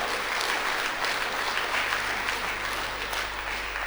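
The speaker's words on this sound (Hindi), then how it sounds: "अपने लिए ताली बजाओ।" A seated audience at a spiritual class claps for itself in a steady, dense round of applause that holds constant and fairly loud from start to finish over a low hum.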